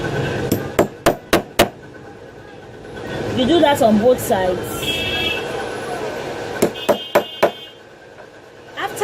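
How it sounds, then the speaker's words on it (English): Hammer strikes on a metal rivet being set in a leather clutch purse, a quick cluster of four sharp taps, then a spoken pause, then another burst of four close, loud blows. "Be careful not to hit your hand with the hammer."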